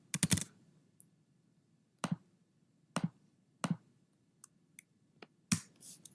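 Computer keyboard typing while entering a password into a web form, in short isolated clusters of keystrokes spaced about a second apart, close and clear in a quiet room.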